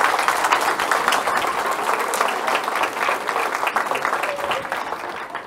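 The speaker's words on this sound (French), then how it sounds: "Bravo à eux et je voudrais qu'on les applaudisse." Steady, dense applause from a sizable audience at a village New Year's address in Saint Just, continuous clapping at an even level throughout with no voices standing out.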